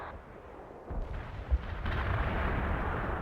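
Artillery barrage in the World in Conflict strategy game: a low, rumbling wash of distant blasts that builds after a second, with one sharper thump near the middle, then sustained heavy booming to the end, no talk.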